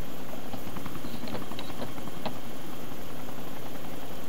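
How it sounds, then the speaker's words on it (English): An enemy helicopter in the video game ARMA II: a steady, loud rotor and engine roar with a throbbing beat, with a few faint knocks and clicks over it and no talk. "Enemy chopper behind us!"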